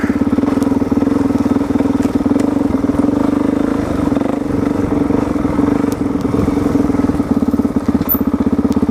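A motorcycle engine idling loudly close by, a steady rapid thumping putter that holds throughout with slight fluctuations.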